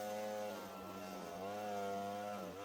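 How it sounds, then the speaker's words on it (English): An Echo PB-2620 handheld gas leaf blower running close by while clearing leaves, a loud, steady two-stroke engine drone whose pitch dips and rises slightly as the throttle shifts. "It's blowing them leaves just great without moving my rock."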